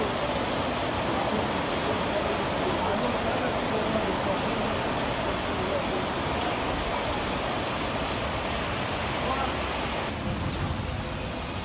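Heavy rain pours down in Edo State, Nigeria, in a dense, continuous hiss, steady and loud the whole time with no voices.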